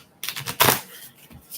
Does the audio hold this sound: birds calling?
no